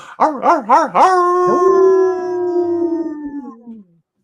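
A person imitates a wolf howl with the voice, opening with a few wavering yips and then holding one long, loud, gliding howl that slowly fades out. The howl is heard close up and alone.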